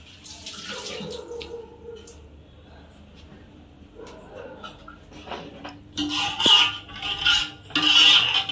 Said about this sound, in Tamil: தேவையான தண்ணி ஊத்தி